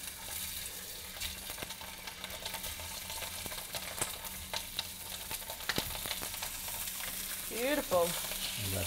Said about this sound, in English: I'm going to add these sausages on this frying pan.